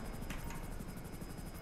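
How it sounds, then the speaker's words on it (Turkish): A helicopter in GTA Online flies close by, its steady rotor chop and dense engine roar filling the whole stretch without a break. "Bu mahallenin en manyak helikopteri çıktı ha."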